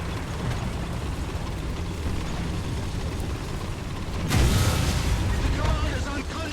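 A shell slams into a tank in War Thunder's Panzerwerfer 42 realistic tank battle, a sudden loud booming crash cutting through steady engine rumble and clatter, then fading back to the rumble.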